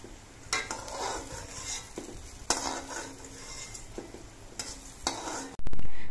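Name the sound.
jackfruit seed cakes frying in pan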